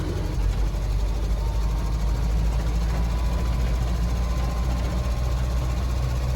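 An electric milk float running in third gear on a test route hums with a steady low drive drone and faint continuous rattling from the load of milk bottles, constant and close from the cab.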